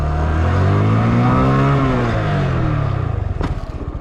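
A motorcycle engine revs hard and climbs in pitch during stunt riding, then drops back to a lumpy, pulsing idle as the throttle closes, loud and close.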